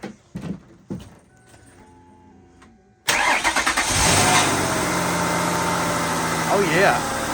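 A Ford Taurus, revived after seven years of neglect, cranks and catches, then settles into a loud, steady idle close by. A few faint clunks come before the start, and a voice speaks briefly over the running engine.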